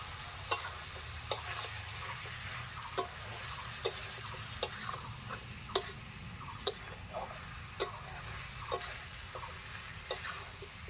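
Chopped onions sizzle steadily in a frying pan while a spoon taps sharply against the rim about a dozen times at an even pace, close and moderately loud.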